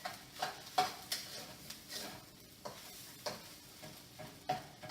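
Egg and pork fried rice sizzle and fry in a hot wok while a utensil scrapes and stirs in repeated strokes, fairly close and moderately quiet.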